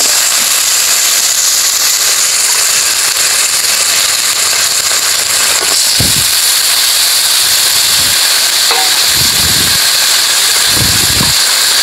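Desi duck meat is dropped into hot spiced oil and fries with a loud, steady hiss of sizzling throughout, while a few soft low thumps sound near the end.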